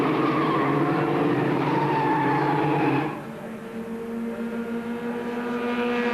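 Formula Ford race cars at the 1986 Formula Ford Festival final, a loud engine roar that drops sharply about halfway as cars pass, then a lower steady engine drone continuing at a distance.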